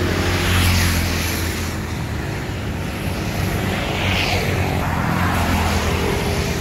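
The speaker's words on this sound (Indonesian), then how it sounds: "Nah, ini ada bus apa ya masuk ini ya?" A bus pulls into a busy bus station by a Rosalia Indah ticket counter in the morning, its engine a loud, steady, close rumble with broadband hiss that holds throughout.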